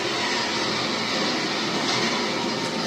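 A train passes in the video game Gears of War 3, a steady, loud rumbling roar of rail cars that fills the whole stretch without a break.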